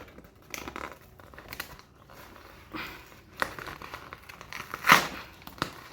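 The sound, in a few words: unboxing a tripod and selfie stick, packaging crinkling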